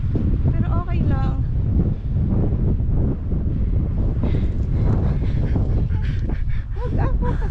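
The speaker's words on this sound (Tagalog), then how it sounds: "Mahangin." Gusty wind buffets the microphone on a mountaintop, rumbling loudly while people talk underneath.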